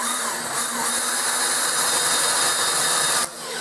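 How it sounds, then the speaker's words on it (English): A power drill whines steadily as it bores a 1/2-inch hole through a steel shaft, a continuous grinding hum that cuts off abruptly near the end. "I'm going to use a drill bit that is the size of the shaft"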